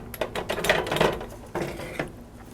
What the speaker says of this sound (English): I'm going to grind some black pepper in there